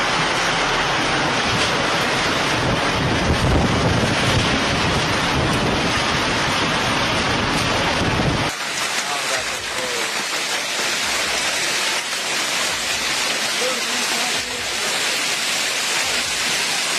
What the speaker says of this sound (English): There was a multi-cell storm system in action between Canavese, Torinese, Vercellis and Cuneo, where thunderstorms and hail occurred, accompanied by strong winds.